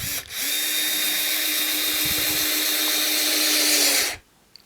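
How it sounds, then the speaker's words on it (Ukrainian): A SKIL cordless screwdriver drives a small 2.5 x 13 mm furniture screw, whirring loud and close in one continuous burst, with its torque clutch slipping, before cutting off abruptly. "Тобто без проблем цією викруткою можна крутити найменші мебельні саморізи."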